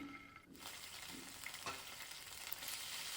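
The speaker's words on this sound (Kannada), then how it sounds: "ಹಾಗೆ ಒಂದು ಸ್ವಲ್ಪ ಜೀರಿಗೆ, ಸ್ವಲ್ಪ ಜಿಂಜರ್ ಗಾರ್ಲಿಕ್ ಪೇಸ್ಟನ್ನು ಹಾಕ್ಕೊತಾ ಇದ್ದೀನಿ." Cumin and ginger garlic paste fry in a pan, a faint, steady sizzle with a brief stirring scrape and a few soft pops.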